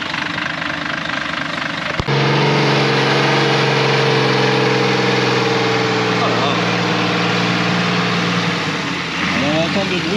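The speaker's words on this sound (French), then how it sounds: "Alors lui, il a un gros moteur." A big car engine idles with a steady low hum after a sharp click, its tone wavering slightly, with faint rising rev-like sweeps near the end; people talk over it.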